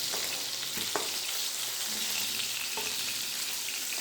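Hilsa fish pieces frying in hot oil crackle and sizzle continuously, with a few sharp pops and light scraping stirs. No voices are heard.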